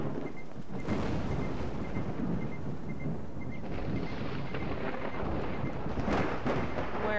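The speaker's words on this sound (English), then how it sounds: "Just regular thunder" Regular thunder rumbles across the Lost Alpha game world near Pripyat, a steady, dense low roar that stays loud and continuous from start to finish, with no break and no voices over it.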